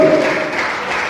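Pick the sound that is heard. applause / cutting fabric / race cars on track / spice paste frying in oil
applause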